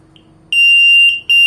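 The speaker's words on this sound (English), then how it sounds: "Okay, now we test the input alarm." A GA01P GSM alarm system siren sounds during an input test: a faint short chirp, then a loud, steady high-pitched tone held for about half a second, a brief dip, and the tone starting again.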